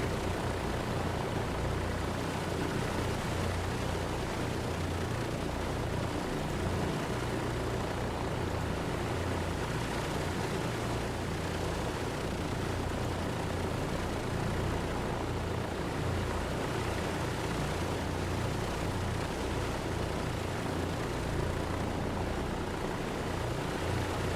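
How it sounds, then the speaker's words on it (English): A Douglas DC-3's two piston engines run steadily in flight-simulator play, with a dense, continuous propeller drone and low rumble holding at an even level from start to finish. "we have two running engines"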